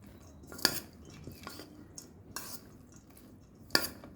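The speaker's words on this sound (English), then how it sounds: "so now we'll mix this up" Chicken salad mixed in a bowl, a few sparse, sharp clinks of a utensil against the bowl among soft, wet shuffling, close and quiet, with no talking.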